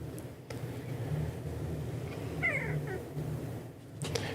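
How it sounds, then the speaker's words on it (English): A cat gives a short meow, fairly faint and brief, over a steady low background hum with a couple of soft knocks. "Yeah, the cat's happy."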